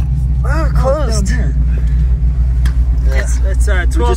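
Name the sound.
1971 Ford Mustang Mach 1 engine idling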